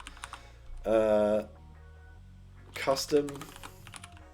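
Typing on a computer keyboard while coding web components and clearing editor errors: quick, light key clicks, faint and fairly close, running under and between bursts of speech.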